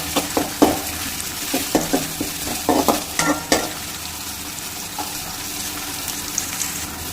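Onions and curry leaves sizzle in a pan for bitter gourd poriyal while a spoon stirs them, with sharp scraping knocks against the pan over a steady frying hiss and no talking.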